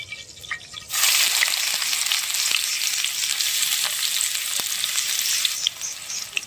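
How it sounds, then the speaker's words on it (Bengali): Fish pieces coated in spices drop into hot oil, a loud, steady sizzle starting abruptly after a quiet moment and holding at full strength with faint crackles throughout, no voices. "এবার মাছগুলো আম্মু ময় মশলা দিয়ে তেলে ভেজে নেবে"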